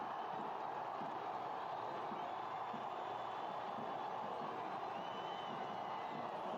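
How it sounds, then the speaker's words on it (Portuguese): Atlético football fans at the Marilene stadium keep up a steady, distant crowd roar throughout, a continuous wash of cheering with no distinct peaks. "A torcida do Atlético presente no Marilene."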